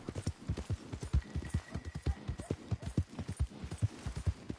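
Hooves of a horse galloping in Red Dead Redemption 2 thud in a fast, steady rhythm, close and clear, with no voices over them.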